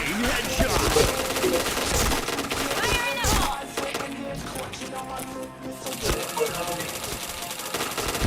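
Rapid bursts of video game gunfire crackle through a busy, dense mix, with steady rattling volleys over about eight seconds, loud and close.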